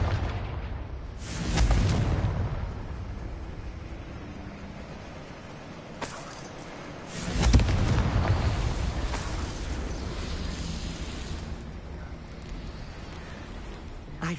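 Confringo blasting spell explosions in the video game Hogwarts Legacy: two deep, rumbling blasts several seconds apart, each followed by a long crackling, rain-like decay over a low background.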